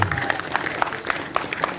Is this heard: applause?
yes